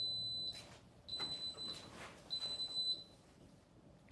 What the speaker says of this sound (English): wait till my thing's done beeping